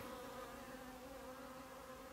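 Honeybees fly in and out of a hive on a sunny April morning in a flowering orchard, producing a dense, steady buzzing drone that fills the air without pause.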